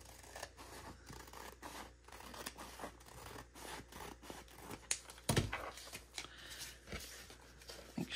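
Scissors cut a small piece off a craft item during a fall upcycling project. Close, quiet snips repeat in a fairly steady run, with a heavier scrape or cut in the middle.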